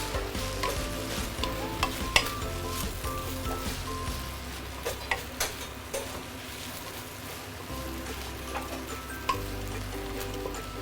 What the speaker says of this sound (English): Now I'm going to put in the fried garlic. Give it a few stir.